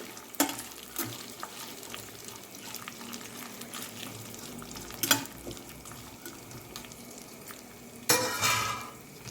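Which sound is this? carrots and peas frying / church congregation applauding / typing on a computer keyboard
carrots and peas frying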